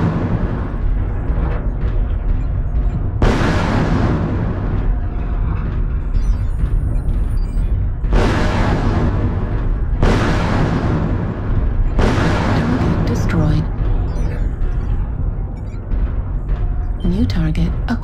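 Missile explosions hit in a mech combat game, several loud booming blasts at intervals with long decaying tails, over continuous engine rumble and a synthetic voice making announcements.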